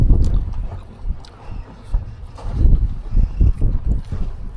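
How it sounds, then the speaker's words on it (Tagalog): Strong sea wind off Calatagan, Batangas buffets the microphone in low, rumbling surges that rise and fall, with no voices. "Lakas pala ang hangin dyan sa ano, labasan."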